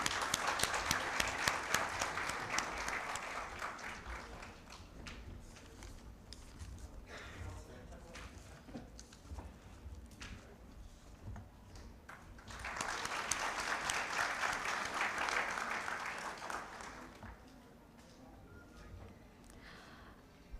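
A conference audience at a trauma medicine event claps for an award recipient in two loud bursts of applause separated by a quieter stretch with scattered claps and murmuring voices.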